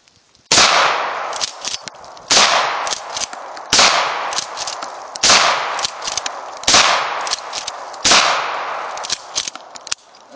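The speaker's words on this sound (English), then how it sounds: "It's a Mossberg 20 gauge. Safety's on. But believe she's ready to party." A Mossberg 20 gauge shotgun fires outdoors, six loud booming blasts spaced roughly every one and a half seconds, each with a trailing echo, and no voices in between.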